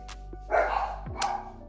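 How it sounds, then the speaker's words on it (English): A new puppy gives a short bark and a yip, close and fairly loud, over a low steady hum with a dull thump in between. "I just got a new puppy and he be barking."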